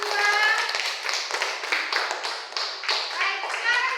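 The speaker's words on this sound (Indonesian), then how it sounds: "mari kita tepuk tangan untuk kelompok 2" A small group claps for a presenting team in an Indonesian class session, uneven bursts of hand claps with children's voices talking over them.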